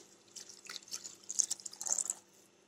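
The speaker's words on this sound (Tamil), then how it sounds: "இப்போ இது வேகிற அளவுக்கு நம்ம தண்ணி விட்டுடலாம்" Water is poured into a pan of Arachuvitta chicken gravy, giving soft splashing and trickling bursts that swell toward the middle and then fade, fairly quiet and with no voices.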